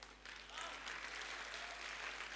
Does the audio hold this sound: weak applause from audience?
yes